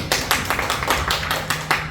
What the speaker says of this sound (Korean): 우리 찬양 가운데 인도하시는 주님 앞에 먼저 영광의 박수 드리겠습니다